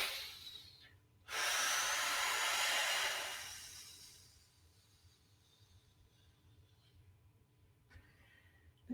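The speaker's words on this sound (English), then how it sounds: "And then we're breathing in again." A deep in-breath during a stretch in a shiatsu support session: a loud, breathy rush lasting about three seconds that fades out, followed by quiet room noise.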